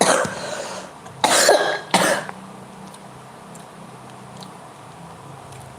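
Someone coughs in a few harsh bursts close to the microphone, then the sound fades to quiet room noise.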